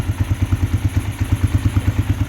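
A Chinese four-wheeler converted into a UTV idles nearby, its engine putting out a steady, rhythmic low chugging with regular thumping pulses and light mechanical clatter.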